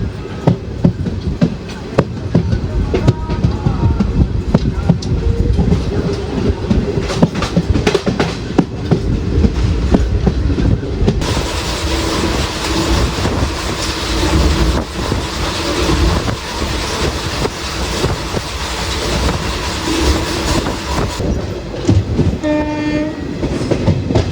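The Kozhikode Jan Shatabdi express runs with loud rolling rumble and rhythmic clickety-clack of wheels over rail joints, wind buffeting the microphone, and a sustained horn blast sounding in the latter half.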